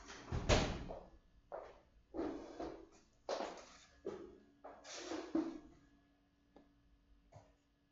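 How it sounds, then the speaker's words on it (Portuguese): A classroom door is shut amid a series of irregular knocks, scrapes and thuds, one heavier bump near the start followed by several shorter handling noises, fairly faint and with no speech. "eu vou fechar a porta aqui por causa do barulho"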